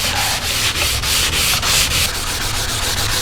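A hazed car headlight lens is sanded by hand with a 3M headlight polishing kit, giving a loud, continuous gritty rubbing with quick regular back-and-forth strokes, close up and with no talk.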